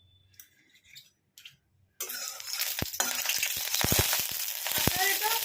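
Hot oil in a pan bursts into loud, steady frying after about two seconds of near quiet broken by brief faint noises, then keeps crackling with sharp pops and clinks close by. The dish is a home-style chicken preparation.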